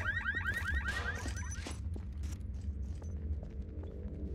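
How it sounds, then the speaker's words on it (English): A car alarm goes off in the video game Entropy Zero 2, starting with rapid warbling sweeps and fading into a steady pulse over rumbling game ambience, with scattered thuds and clatter. "Did he just turn off the car alarm?"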